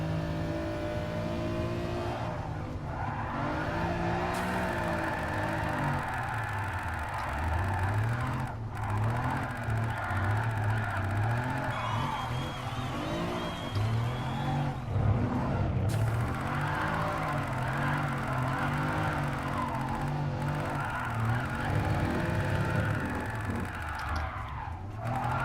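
A car drifts in the racing game GT Sport, with long tire squeals and skidding while the engine revs rise and fall through repeated slides, a continuous loud run of screeching and acceleration with no voices.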